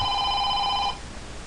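A telephone rings with one steady electronic tone that holds for just under a second and then stops abruptly, leaving quiet room noise.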